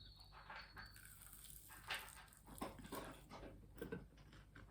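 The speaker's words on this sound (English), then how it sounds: "Excuse the dog in the background." A dog in the background of a home kitchen makes quiet, scattered whimpers and small vocal noises, faint and intermittent, with no talk over it.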